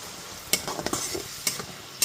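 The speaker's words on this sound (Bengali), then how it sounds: "এবার গ্যাসের ফ্লেমটা মিডিয়ামে করে মশলাটাকে খুব ভালো মতো কষিয়ে নিতে হবে" Spice paste for a paneer dish with kasuri methi sautéed over a medium gas flame, a spoon clinking and scraping the pan in a few sharp strokes over a low sizzle, close up.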